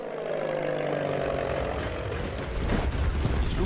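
Propeller aircraft engines drone in a World War I strategy game, Commander: The Great War, a steady rumbling hum that grows louder and fuller toward the end.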